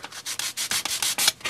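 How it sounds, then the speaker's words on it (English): Light hand sanding with 400 grit sandpaper on an ABS body, quick back-and-forth rasping strokes, about ten in a steady rhythm, close and alone. "give it a very light sanding"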